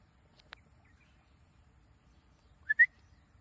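A whistle blown to call a Shiba Inu gives two quick, fairly loud chirps near the end after a faint earlier click, in an otherwise quiet outdoor setting.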